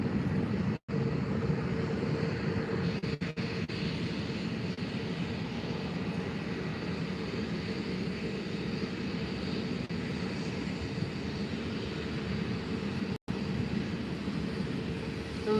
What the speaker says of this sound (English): Nice Condor takeoff.